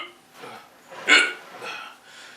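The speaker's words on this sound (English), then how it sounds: "Seriously, I got the hiccups now?" A single sharp hiccup from a man in a woodworking shop, brief and close, set among quiet breathy sounds with no words spoken.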